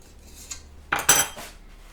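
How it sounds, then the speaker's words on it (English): A spoon scrapes cookie dough for gluten-free molasses cookies off a tablespoon, making a couple of quick, close metallic clinks and scrapes in a quiet kitchen. "grab a spoon, a tablespoon, and just scrape it with the other spoon"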